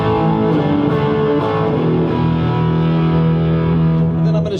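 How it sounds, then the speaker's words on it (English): A heavily distorted electric guitar, a Fender Stratocaster through a Pugilist distortion pedal, plays sustained chords, thick and saturated, loud and steady with no talking. "The Pugilist is an amazing distortion."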